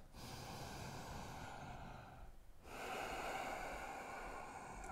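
Steady breathing during a yoga flow: a long, close, breathy exhale with a short pause, then the next breath drawn in, soft but clearly audible and alone.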